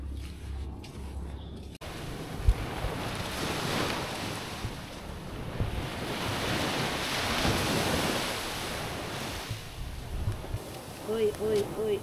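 Steady roar of surf washing onto a shore with wind buffeting the microphone, brief voices near the end.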